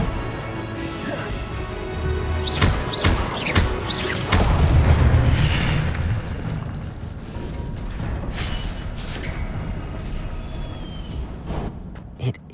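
Incendio fire spell cast in Hogwarts Legacy on PS5, with whooshing bursts, sharp cracks and a heavy rumbling boom in the middle, followed by softer crackling and game sounds.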